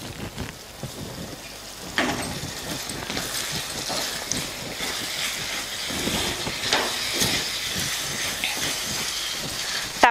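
Brinjal pieces cook in a pan for vangi bath, giving a constant hissing sizzle like rain, with irregular soft clicks and stirring scrapes up close and no voices.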